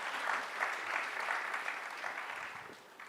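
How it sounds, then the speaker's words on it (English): A crowd claps steadily, a dense patter of applause at moderate volume that tapers slightly toward the end. "Round of applause."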